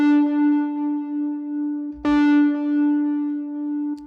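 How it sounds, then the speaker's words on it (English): A sustained synth tone with a delay effect holds steady, retriggered once midway, with a pulsing, echoing wobble as faint repeats trail behind it. "of course you hear the delay"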